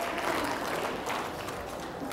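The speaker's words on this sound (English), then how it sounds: "Give yourself a round of applause." Audience at a talk bursts into applause, a brief dense patter of clapping hands heard from moderately near, steady for about two seconds.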